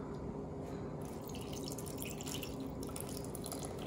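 Lemon juice, 100 ml, is poured into a pan holding a sugar and egg mixture, giving a steady, close liquid trickle with faint dripping that runs without a break and without any voices.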